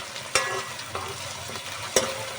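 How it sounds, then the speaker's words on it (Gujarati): Ginger, garlic and green chillies sauté in oil in a pan while mutton curry is being made, a steady soft sizzle broken by a few sharp scrapes of a spoon stirring. "આદુ લસણ ને લીલા મરસા ત્રણ વસ્તુ આપણે એડ કરી દઈશું અને ઘડીક પાસે આપણે અહીંયા સડવા દઈશું"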